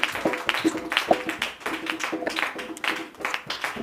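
A church congregation at a special 2024 testimony service claps rhythmically together in acclaim of Jesus, a steady run of sharp, close hand claps with faint voices mixed in beneath.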